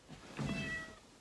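A cat meows once, a short, fairly clear call close by in a quiet indoor room, with no talking over it.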